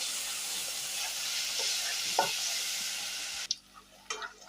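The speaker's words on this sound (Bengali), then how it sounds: "যতক্ষণ পর্যন্ত আমার রসুনটা বাদামি কালার করে ভাজা না হচ্ছে বন্ধুরা, ততক্ষণ আমি সেটা ভাজবো।" Garlic frying in a pan until brown for a snakehead fish bhuna, a steady close sizzle with light stirring scrapes that drops off near the end, leaving a few soft clinks.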